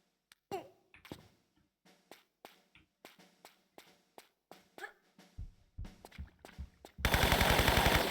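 Gunfire in Tomb Raider I-III Remastered from a bigger gun, a string of sharp single shots in an irregular rhythm that breaks into a loud, rapid automatic burst at the end.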